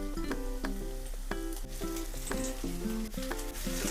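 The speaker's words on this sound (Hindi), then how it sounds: "आलू मेथी बनाते हुए हम आलू को ऑयल में भूनेंगे, तलेंगे" Potatoes fry in hot oil with onions for aloo methi, giving a lively sizzle. Sharp, repeated clinks and scrapes of stirring come through close by.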